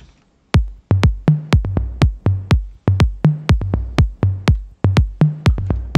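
Tom drums tuned and sequenced as a bass line in an organic house production, punchy pitched hits in a steady syncopated pattern, each with a short booming decay, played alone.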